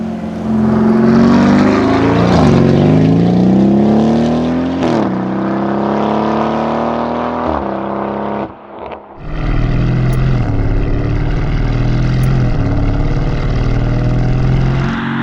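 A Novitec-tuned Lamborghini Urus SE with a V8 engine drives by loudly, its tone rising and falling through gear changes, then dips briefly before resuming with a deep, steady rumble.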